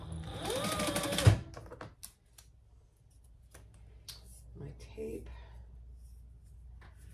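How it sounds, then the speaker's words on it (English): Sewing machine stitching beneath the first card slot of a tall wallet, a loud dense run for about a second and a half at the start, then quieter handling sounds while a person talks. "We're gonna stitch underneath that first card slot"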